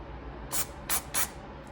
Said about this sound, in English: now we'll do the final quick spray after you get everything manually wiped.